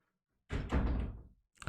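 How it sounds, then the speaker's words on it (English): A door swings closed indoors with one solid thud that dies away within about a second, followed by a brief faint knock. "Can you close the door, sir?"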